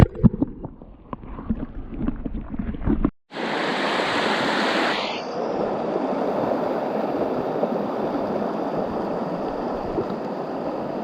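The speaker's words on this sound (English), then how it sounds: "this is an absolutely gorgeous stream" Flowing water of a river stream on the Savage River in western Maryland, a loud, close, continuous rushing wash heard alone after a brief stretch of rustling handling noise.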